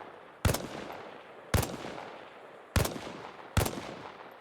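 Four single rifle shots fired from a prone position at range targets in Arma Reforger, evenly spaced about a second apart, sharp and close, each followed by a short echoing tail.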